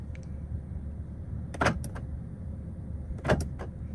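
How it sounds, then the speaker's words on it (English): Central locking on a 2021 BMW 218i Gran Coupe actuating twice, two short mechanical clunks about a second and a half apart, close and clear over a quiet cabin hum. "Get your central locking."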